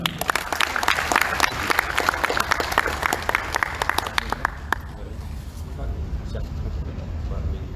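An audience at a public hearing applauds four speakers, brisk close clapping that thins out after a few seconds and gives way to a low murmur of room noise and faint traffic.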